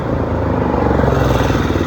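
A Bajaj Pulsar NS400Z motorcycle idles close by after being switched on, a steady low rumbling engine note with a slight rhythmic clatter, loud and alone for about two seconds.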